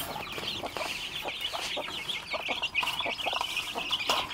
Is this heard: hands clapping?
no